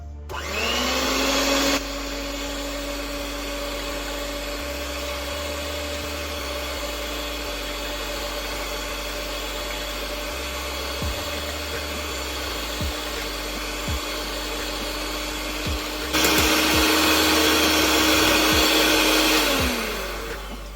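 An electric beater whips fresh cream for homemade ice cream, whirring continuously nearby with a steady motor whine, growing louder at the start and end, with occasional light knocks against the bowl.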